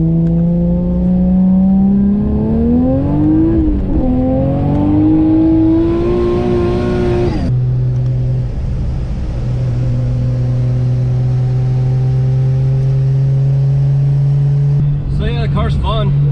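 Single-turbo 1JZ car driving, its engine droning loudly with rising and falling revs, climbing pitch as it accelerates and holding a steady cruise, then a sharp rev blip near the end; continuous and close throughout.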